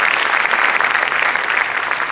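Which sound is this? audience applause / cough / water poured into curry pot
audience applause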